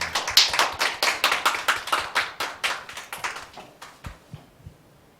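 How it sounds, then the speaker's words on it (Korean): Scattered applause from a church congregation at a Christmas thanksgiving service, a run of distinct claps that thins out and fades to a few last claps near the end. "우리 격려의 박수 부탁드리겠습니다."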